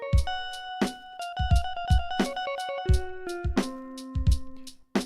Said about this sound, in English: what you're hearing is a VST on the computer, which is being triggered by the Lo-Fi 12 XT.